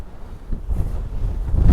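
Strong wind roars and buffets the microphone in heavy low gusts on a Northumberland clifftop, building toward the end, with no voices.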